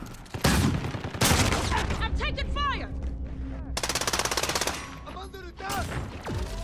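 Bursts of rapid automatic gunfire and single shots rip through a Call of Duty: Modern Warfare firefight, loud and close, with a sustained machine-gun rattle midway and voices calling out between volleys.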